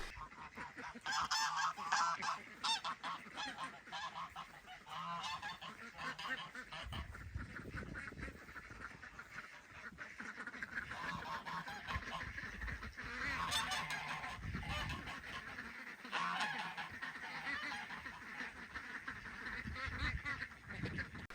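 Farm geese honk and squawk continuously in a loud, busy cluster, joined by ducks quacking nearby. The calls overlap and rise and fall throughout with no clear pause.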